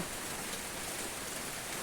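Steady rain falls and patters on surfaces, a dense, even hiss that stays constant and close with no other sounds.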